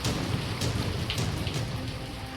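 Steady heavy rain pours down and pools, with water collecting with no way to drain in a flooded monsoon downpour; a dense continuous hiss, loud and unbroken, with no voices.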